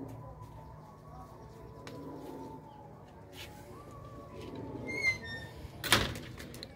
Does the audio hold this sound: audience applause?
no